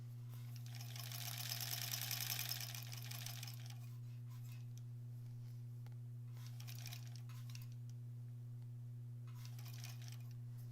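A sewing machine stitches pieced quilt fabric, running in one long burst and then two shorter ones over a steady low hum, close and fairly quiet.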